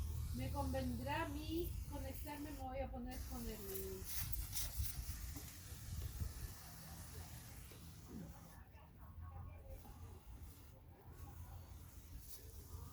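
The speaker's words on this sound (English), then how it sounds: "so I'll spray them" Short hissing spray bursts of neem oil from a handheld sprayer onto garden plants, repeated a few times close by, with a person talking and outdoor background noise.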